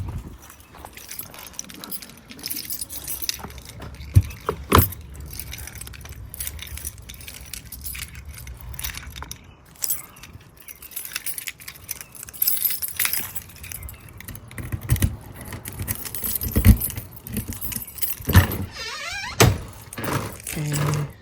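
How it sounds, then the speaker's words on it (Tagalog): Keys jangle in short bursts, near and fairly loud, while a camper is leveled in Calgary, Canada, with thuds, clinks and occasional talk around them. "Kunin natin yung susi"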